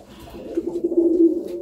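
A pigeon's soft, low cooing, close by, rolling in a short throaty phrase against a quiet background.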